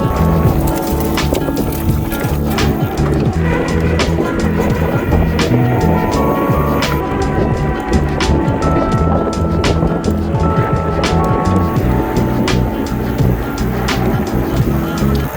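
ActBest ZCool folding e-bike on 3-inch tires rolling over gravel, a continuous loud crunching and rattling of stones under the wheels mixed with wind buffeting.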